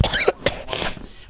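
Two or three short, harsh coughs from a person in quick succession, close and fairly loud, followed by a softer exhale.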